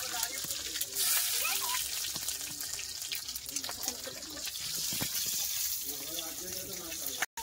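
Water poured into hot mustard oil with five-spice seeds and green chillies in a pan, a steady rushing, splashing hiss that runs throughout and cuts off abruptly at the end.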